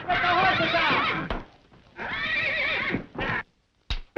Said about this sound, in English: get the horses out of there